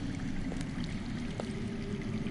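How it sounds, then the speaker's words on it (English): Steady low rushing of underground running water in the Game of Thrones Telltale video game, a continuous muffled flow held evenly throughout with no speech over it. "That's water. I hear water. From underground."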